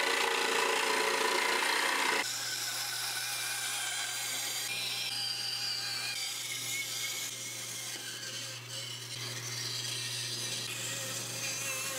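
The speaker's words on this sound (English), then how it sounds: "I'll just rough cut it out and clean it up with the bandsaw." A bandsaw rough cuts a wooden push stick template, a constant motor hum with the blade's whine, and the tone shifts slightly as the wood feeds through; no talking.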